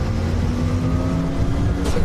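A performance car accelerates hard on a race track, with a loud, steady engine drone heard close and alone.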